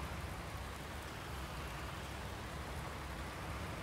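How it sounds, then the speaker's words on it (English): Steady rain falling throughout, a dense even hiss of drops with no break, heard alone at moderate level in a Farming Simulator 19 field scene with a Case International 7250 tractor. "it's raining"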